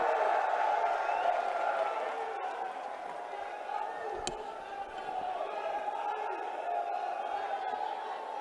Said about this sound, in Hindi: तालियों से स्वागत कीजिए प्रियंका गांधी वाड्रा जी का